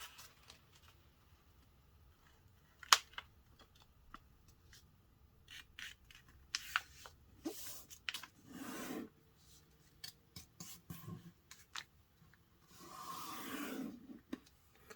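Origami paper for a paper jet gets folded and pressed, with crisp rustles, sharp creasing scrapes and short rubbing swipes scattered irregularly, close and quiet, including a longer rasping stroke near the end.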